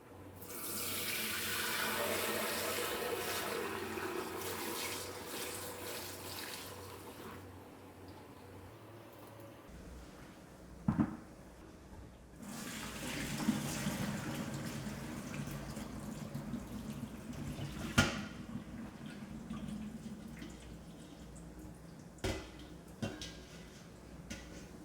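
Water runs from a kitchen tap into the sink during cheese making, a steady hissing rush that stops, followed by quieter flowing and washing with clinks and knocks.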